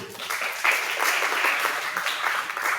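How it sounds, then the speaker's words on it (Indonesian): A classroom of students applauds for a classmate named Kelvin after his presentation, a short burst of steady group clapping lasting a few seconds. "Tepuk tangan untuk Kelvin."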